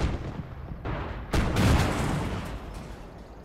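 Artillery and mortar fire in the Gates of Hell war game, a steady rumble of distant booms with a sharp, heavy blast about midway that swells into a long rolling echo, with no talking.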